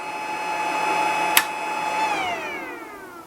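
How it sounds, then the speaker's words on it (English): A loud mechanical whir with a steady whine from the cooling fan of a Geeetech MeCreator2 3D printer, a sharp click partway through, then the pitch shifts downward as the motor changes speed. "That little fan on it is a very loud fan"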